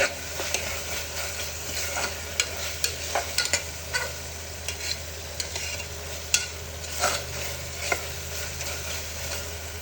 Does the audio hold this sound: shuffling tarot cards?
no